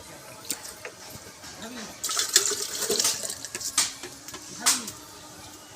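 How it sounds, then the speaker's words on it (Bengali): Rice is rinsed by hand in water, giving soft intermittent swishes and splashes with a few louder sloshes, fairly faint and close. "চালটা আমি এখানে হালকা হাতে একটু 2-3 বার ধুয়ে নেব"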